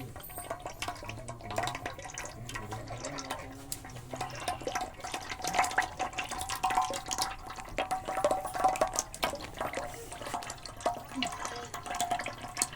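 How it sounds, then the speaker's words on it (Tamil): Sunflower oil, about a litre, pours steadily into a pan for frying pakoda, a continuous close liquid trickle and splash that grows slightly louder midway. "நம்ம 1 லிட்டர் அளவுக்கு சன்ஃப்ளவர் ஆயில் ஊற்றிருக்கோம்"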